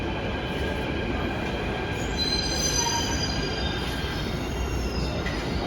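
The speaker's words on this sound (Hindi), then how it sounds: "हमारी मेट्रो आ चुकी है।" Delhi metro train pulling into the platform, a steady loud rumble of wheels on rail with high metallic squeals drifting across, continuous and close, no voices.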